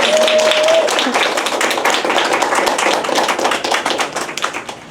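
Audience applause breaks out at a panel talk after a brief voice at the start: dense, close clapping that holds steady for several seconds.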